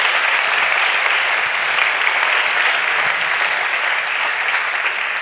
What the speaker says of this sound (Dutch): Mag ik een groot applaus voor de gasten vanavond.